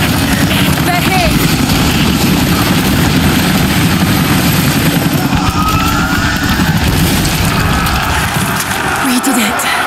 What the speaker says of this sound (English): Those choppers should be in range soon. They're here.